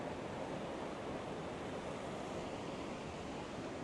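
Water from a Scottish hillside waterfall pours in a steady broadband roar, heard from a high vantage point, with some wind buffeting the microphone and no talk.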